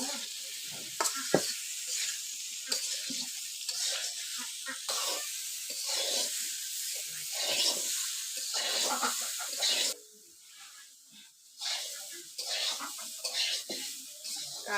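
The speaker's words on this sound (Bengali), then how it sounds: "লবণ হলুদ দিয়ে কাঁঠাল ভালো করে ভাজানো" Boiled raw jackfruit fries with salt and turmeric in a pan for a Bengali curry, a continuous close sizzle broken by repeated stirring scrapes, briefly quieter before the frying resumes.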